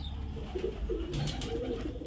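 A highflyer Giribaz pigeon gives a short series of soft, low coos, close by, with faint chirps and light background noise and no talking.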